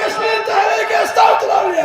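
A large religious gathering chants the slogan Nara-e-Ghausia in unison, a loud sustained roar of many voices swelling and rising near the end.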